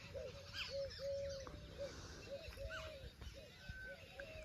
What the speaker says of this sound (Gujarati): પક્ષીઓ અવાજ કરી ખાલી